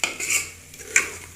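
A metal spoon clinks and scrapes against a pan while dried fenugreek is stirred into eggs and onions cooking, three or four bright, close clatters in a short burst with no talk.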